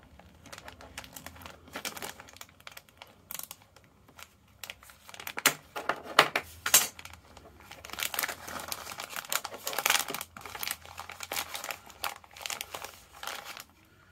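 A knife cuts through crinkly material, producing a busy run of close crackling, tearing and crunching bursts that grows louder and denser midway, with no one speaking.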